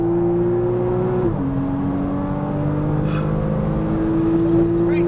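Loud, steady engine drone from inside a 2014 Porsche Cayman S at speed on a track, the pitch briefly dropping with a gear shift before climbing again.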